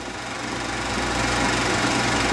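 An Allis Chalmers WD45 tractor engine runs steadily. Its dense, even mechanical chug stays loud and close throughout, with a slight rise in level partway through, and no voices over it.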